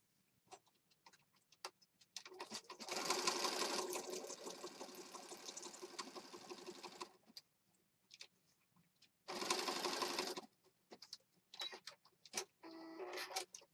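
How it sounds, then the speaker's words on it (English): A sewing machine stitching a paper junk journal page, running in two bursts, a long buzzing run of several seconds and a shorter one, separated by quiet handling clicks and rustles. "So I just stitched across the bottom here and then up the side."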